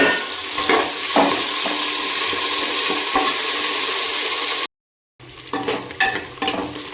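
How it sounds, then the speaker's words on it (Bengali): Onions frying lightly in a pan and being stirred, a steady close sizzle broken by scraping utensil strokes, with a short gap of silence before the stirring and sizzling resume. "পেঁয়াজগুলোকে একটু হালকা করে ভেজে নেব, বেশি ভাজবো না।"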